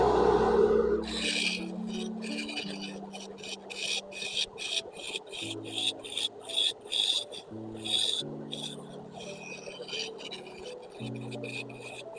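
Wood-turning scraper cutting a scrap wood bowl on a lathe, a raspy, rubbing scrape that comes in repeated close strokes over the lathe's low steady hum.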